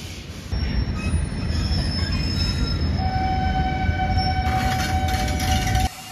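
The 12821 Shalimar-Puri Dhauli Express passenger train running: a steady, loud rumble of wheels on rails with a thin metallic squeal and high whine over it, ending abruptly.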